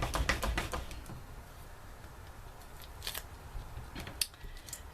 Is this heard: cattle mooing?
no